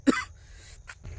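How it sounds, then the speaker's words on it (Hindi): A single sharp cough bursts out close to the microphone, followed by a brief throaty sound and a short breath, with no talk over it. "सॉरी दोस्तों, खांसी की वजह से थोड़ा परेशानी झेलनी पड़ी हमको।"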